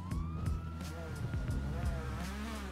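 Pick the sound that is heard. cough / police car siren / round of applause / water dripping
police car siren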